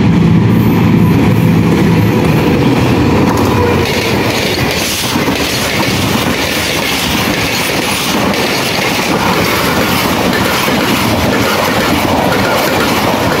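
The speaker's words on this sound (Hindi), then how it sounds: "अब जाफर एक्सप्रेस आ चुकी है सामने और काफ़ी स्पीड से आ रही है जी।" The Jaffar Express passenger train roars past at high speed close by, a loud continuous rush of wheels and rail clatter that stays dense and steady throughout.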